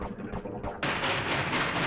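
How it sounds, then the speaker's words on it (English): Gunfire in They Hunger, a Half-Life mod, with shots raining down from rooftops: a few sharp cracks, then a dense sustained burst of rapid fire, loud and close. "shots begin to rain down from the rooftops"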